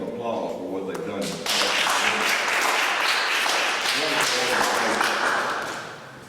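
Audience applause at a community gathering, beginning under a speaking voice and then swelling into a full, steady round of clapping from a crowd that holds before tapering off near the end.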